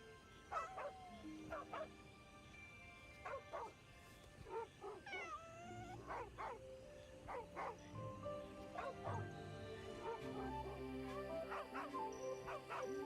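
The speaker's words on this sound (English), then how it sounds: "So the dog is actually following me." A dog in the video game Where Winds Meet gives a series of sharp barks and yips mixed with whimpers and a brief meow-like cry, moderately near over quiet game ambience.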